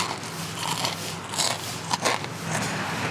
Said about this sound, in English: how about another crunch?